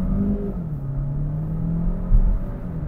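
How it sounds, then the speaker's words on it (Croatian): A petrol engine in a 2025 Renault Captur revs hard at full throttle, a steady rising drone with a brief louder surge near the end, heard alone without talk. "Imate neki zvuk, pogotovo nakon na 4-5 tisuća okreta na punom gasu zvuči kao oni."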